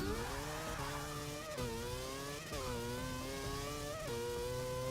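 Mazda RX-7 racing in Forza 6, its engine revving high and loud in a continuous whine, rising through gears with brief dips at each shift, no voices.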